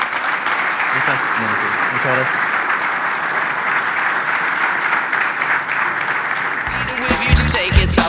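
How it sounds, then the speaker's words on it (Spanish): Audience applause for a speaker at a sports management talk, a steady wash of clapping throughout with a short spoken thank-you near the end. "El aplauso para Alberto"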